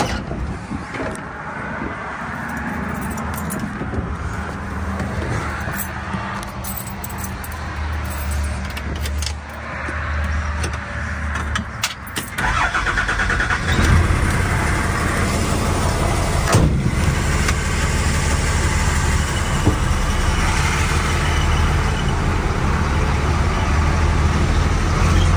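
Keys jangle before a car engine starts up around the middle and keeps running as the car pulls away, a close, rising engine rumble with road noise that stays loud to the end.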